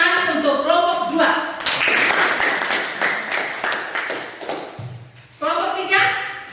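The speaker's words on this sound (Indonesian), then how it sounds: "tepuk tangan untuk kelompok 2" A classroom group claps for a presenting student group, a loud burst of close hand claps lasting a few seconds, with a teacher's voice before and after.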